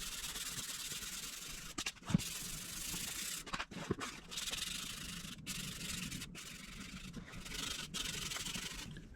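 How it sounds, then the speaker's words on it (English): Steady abrasive rubbing as primer is sanded off a handmade fiberglass side panel for a custom dirt bike, a close, continuous scratchy hiss broken by a few brief pauses and knocks. "I've got the edges sanded off."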